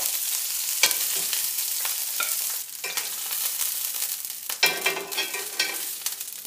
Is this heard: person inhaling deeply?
no